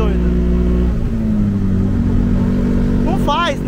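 A Ford Fiesta fitted with a Twister motorcycle engine cruises along a highway, its engine holding a steady droning hum with a brief shift in pitch, with speech in a car cabin.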